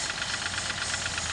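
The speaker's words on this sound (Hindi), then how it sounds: "तो आप सुन सकते हैं इंजन का साउंड।" An overheated Mahindra TUV 300 engine idles with a steady, dense mechanical clatter and knocking rumble, close and continuous with no talk.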